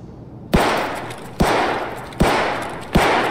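Gunfire in the shooter game Escape from Tarkov: four loud, sharp shots at steady intervals of just under a second, each trailing off into a long rumbling echo.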